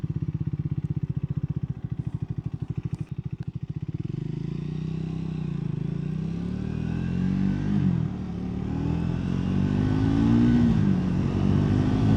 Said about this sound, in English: I've got to rev it to get it to go